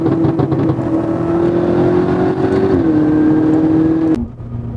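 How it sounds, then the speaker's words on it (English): A BMW M5 with a stage 2 setup, downpipes and aftermarket exhaust revs at about quarter throttle, a loud, close, steady drone that dips in pitch, then cuts off sharply near the end. "The exhaust is really not too crazy of a setup."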